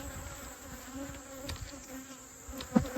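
Angry honeybees swarm around an opened hive during late-summer colony equalizing, a steady dense buzz with individual bees darting close past.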